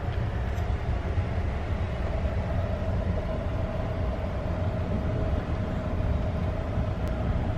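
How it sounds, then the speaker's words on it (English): Amtrak passenger train rolling slowly along the tracks, heard from inside a car as a steady low rumble with a faint hum throughout, no talking. "The train's been moving very slowly."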